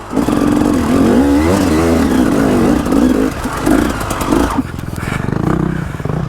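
A hill climb motorcycle at Laxey Mines revs hard and close in the wrong gear, the engine note rising and falling in uneven surges, with scraping and clattering before it drops away.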